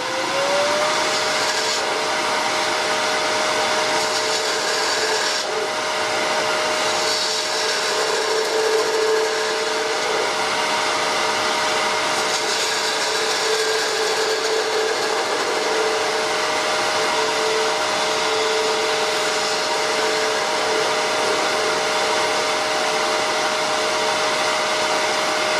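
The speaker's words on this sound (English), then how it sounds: "What I'm doing is just going to be tapering the end of it here, and then putting just a small tenon on it." A wood lathe tapers the end of a walnut piece, giving off a steady, loud whirring drone with a constant tonal hum that runs unbroken from start to finish, with no voices.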